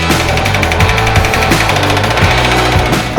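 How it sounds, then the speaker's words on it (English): Power hammer pounding sheet metal while shaping a widened car fender for a drift build, a fast steady rhythm of loud mechanical blows running throughout with no talk. "I chose the power hammer because it's the fastest way to move metal."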